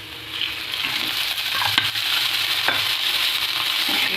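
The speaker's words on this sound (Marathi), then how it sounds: "तर इथं मी थोडंसं तेल टाकते कांद्यामध्ये," Onion frying in oil on a griddle gives a steady, close sizzle with occasional stirring scrapes, heard alone without talk.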